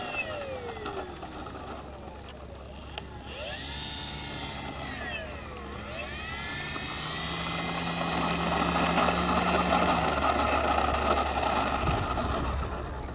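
Electric shoulder-wing model airplane taxiing on the ground, a steady high motor whine with shifting pitch sweeps as it turns, growing somewhat louder toward the end, with no talking.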